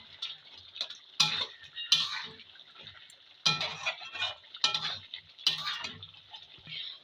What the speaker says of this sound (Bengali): আবারও আমি নেড়ে দেবো